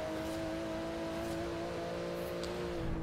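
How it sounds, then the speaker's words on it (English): Porsche 911 GT2 RS engine in Forza Horizon 4, a steady droning hum held at near-constant revs for about three seconds, with faint rustling and a slight swell at the end. "This is a Porsche 911"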